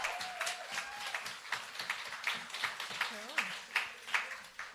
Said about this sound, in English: Another big round of applause for Crow.